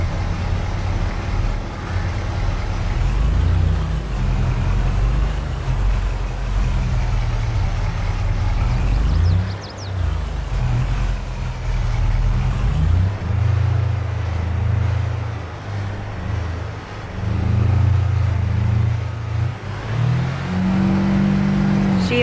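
A truck engine in the farming video game Farming Simulator 22 idles with a low rumble and rises into repeated revs while it is maneuvered into a parking spot, heavy and close, with no voices.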